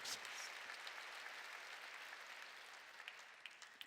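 Applause from a church congregation during a sermon at a Jesus-centred church service, a steady broad wash of many hands clapping at moderate distance, sustained throughout with slight fading toward the end.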